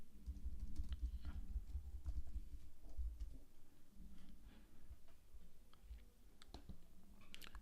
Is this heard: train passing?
no